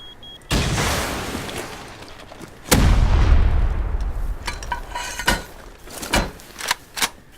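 Gunfire in the video game Rust: a few loud, sharp shots with long booming tails, followed by several quicker, fainter cracks.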